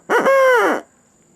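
A single hand-blown owl locator call used for turkey hunting gives one loud, close, sustained hoot lasting under a second and then stops, with no talk.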